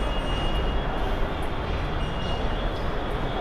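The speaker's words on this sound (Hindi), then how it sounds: "Guys metro station." Steady rumbling ambience inside a Delhi metro station, with a low, continuous train drone and hum filling the space at an even level and no clear voices.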